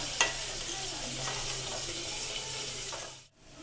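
Egg biryani masala is stirred in a pan, a steady scraping and sizzling wash with soft clinks near the start, close and moderate, ending in a brief silence.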